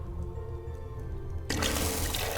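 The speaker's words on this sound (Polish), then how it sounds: "To jest woda?" Water drips inside the horror game The Mansion, a steady wet trickle that grows suddenly louder and fuller halfway through and keeps running to the end.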